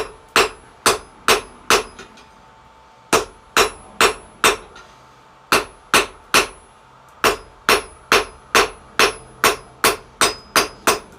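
Hammer blows on hot steel, forging a taper for a grappling hook: sharp ringing strikes in steady runs of about five to eight, with short pauses between groups, loud and close with no talk.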